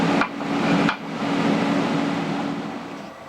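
A milling machine cleans up the welds on a welded steel piece, producing a loud, close, continuous grinding cutting noise with a steady hum, briefly broken by two short sharp shifts near the start.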